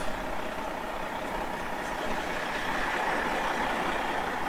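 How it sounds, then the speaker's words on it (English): A Prevost bus engine idles in a steady, moderately loud, broadband drone with little variation and no voices. "So he's starting up the bus"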